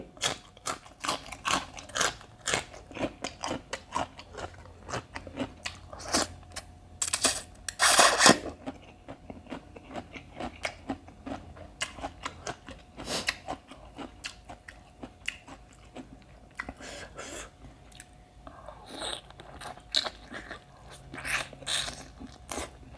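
Loud, close crunching and biting of a very spicy Thai papaya salad, made with three kilos of papaya and a thousand chilies, with repeated crisp bites and chewing throughout and no talking.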